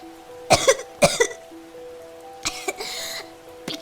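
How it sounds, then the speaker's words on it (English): Several sharp, close coughs come in two quick pairs, then a rougher throat-clearing burst and one last short cough, separated by quiet gaps. "She coughed."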